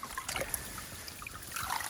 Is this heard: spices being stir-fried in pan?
no